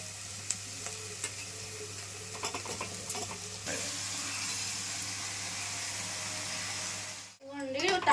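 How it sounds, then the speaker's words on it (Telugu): Onions sizzle in a pan with a steady, close hiss, broken by soft clatter as tomato and cucumber pieces go in and get stirred, with brief talking near the end. "ఉల్లిపాయలు ఇలా వేగేటప్పుడు టమోటాలు దోసకాయ ముక్కలు వేసేసుకోవాలండి"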